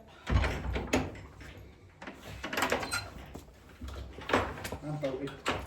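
A horse's stable door swings shut and is bolted, giving several wooden knocks and a metal clack close by while a person talks throughout.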